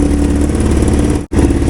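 A three-wheeler engine swapped into a golf cart revs hard and steadily with a buzzing mid-range drone, cutting out for a split second before roaring back.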